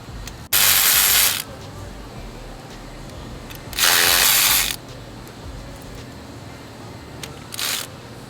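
Turbo manifold bolts on a 2017 VW Tiguan are broken loose in a garage. Two loud bursts of rapid mechanical ratcheting or air-tool whirring are followed by a shorter, fainter one, over steady background hum.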